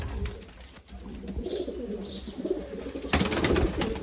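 Pigeons coo softly in a loft amid some rustling and a brief flutter of wings, with a louder burst of flapping near the end.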